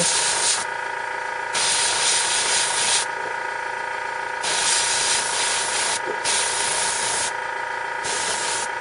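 Primer sprays from an airbrush onto the rim of a miniature slate base in a continuous close hiss that swells and dips as the trigger is worked, with a steady background hum.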